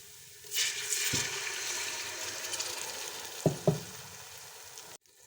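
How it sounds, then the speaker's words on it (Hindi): A little water hits browned onions frying in a pan for chicken pulao, setting off a loud, steady sizzle with a couple of brief bubbling bursts before it cuts off. "अब हम इसमें बिल्कुल थोड़ा सा पानी डाल देंगे।"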